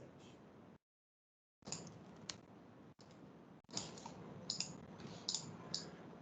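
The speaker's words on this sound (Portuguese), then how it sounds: "Vou usar o teclado." A computer keyboard gives quiet, sparse clicks and taps, irregularly spaced, with a brief gap of near silence and no speech.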